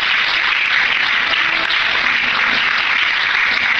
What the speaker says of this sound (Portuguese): Quantos podem aplaudir e exaltar o Senhor bem forte?